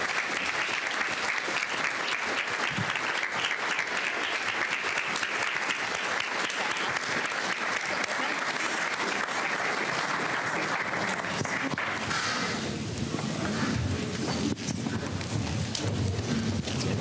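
A crowd at a scholarship leadership breakfast applauds a scholarship class, with sustained, dense clapping that thins out toward the end.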